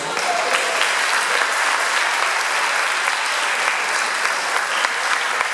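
Steady, dense applause from a large church congregation, sustained at an even loudness throughout with no pauses.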